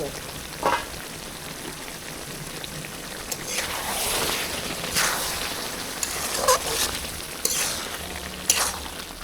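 Hot oil sizzles and crackles in a pan after the lid comes off, while a Bengali prawn and coconut milk dish with taro stems cooks. A steady frying hiss carries irregular louder pops and spits, heard close.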